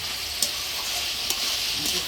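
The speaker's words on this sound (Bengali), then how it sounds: "সুন্দর ভাজা হচ্ছে এদিকে নরম হচ্ছে" Chunks of potato, eggplant and radish fry in a pan with a steady, close, bright sizzle, broken by a few sharp pops or utensil touches, and no clear talking.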